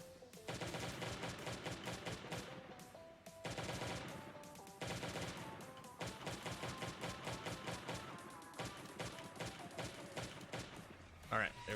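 Rapid bursts of gunfire fire again and again in the survival video game LDoE: Survival while shooting down a turret, with short pauses between volleys.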